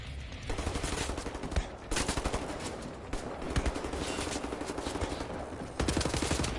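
Rapid automatic gunfire in the shooter Wolfenstein: The New Order, sustained bursts of fast rhythmic shots broken by brief pauses, loud and close with no talking.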